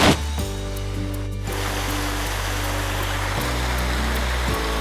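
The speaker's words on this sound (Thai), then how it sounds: "มานั่งชมน้ำตกนะคะน้ำตกสวยมากๆเลยค่ะ" Waterfall at Sai Thong National Park in Chaiyaphum, Thailand, during a low-water season, a continuous broadband rush of falling water beneath sustained tonal background music.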